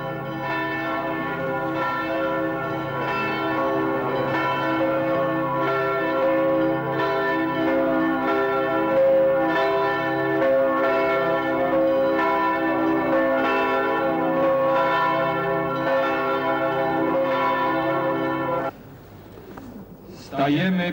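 The church bells of Żoliborz, Warsaw, toll for a priest's funeral in a dense, ringing peal with overlapping strokes, loud and resonant, then cut off abruptly near the end.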